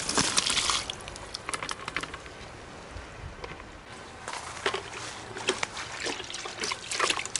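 Contents of a plant pot are dumped out. The sound is a soft, faint trickle and patter of wet material and water, with small splashes scattered throughout.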